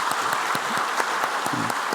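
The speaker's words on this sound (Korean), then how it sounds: "환영하고 잘 보내라는 마음으로 박수 한번 하겠습니다." A church congregation at a Sunday service claps to welcome a visiting group of students and staff, loud close applause that holds steady throughout with distinct individual claps standing out.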